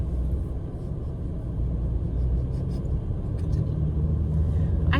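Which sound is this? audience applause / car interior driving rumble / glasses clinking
car interior driving rumble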